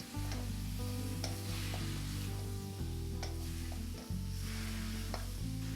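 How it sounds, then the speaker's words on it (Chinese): Stir-frying in a wok just after cooking wine is added, a loud continuous sizzle with scraping spatula strokes and low steady hum, no voices. "然后再放点料酒，翻炒1到2分钟"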